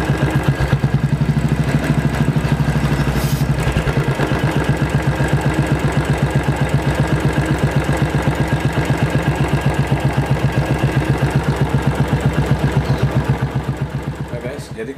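A Royal Enfield 500 EFI single-cylinder engine idles steadily up close, a regular fast thumping beat with mechanical ticking that stays even throughout and fades slightly at the end.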